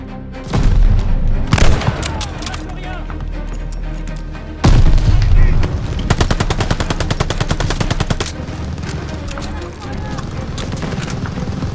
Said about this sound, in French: Faut s'occuper de cette mitrailleuse!